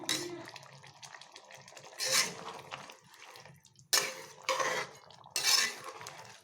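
Pieces of aar fish go into a pan of simmering curry, with short bursts of sizzling and splashing and the clink of a utensil against the pan between quieter moments.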